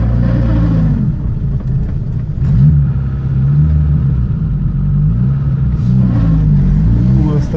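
Toyota off-road vehicle crawling through a swamp, a loud close engine rumble holding steady with rising and falling revs throughout, with voices talking inside the cabin.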